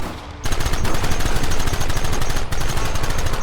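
Rapid, loud gunfire rattles almost continuously in the Red Dead Redemption video game, dense bursts of shots close by after a brief quieter opening.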